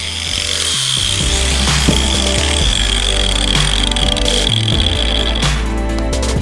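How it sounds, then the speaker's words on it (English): A loud power tool cuts through the steering link of a John Deere D140 lawn tractor, a steady close grinding whine with a constant tone and shifting rough texture throughout. "but I'm gonna cut more than 1/4 inch"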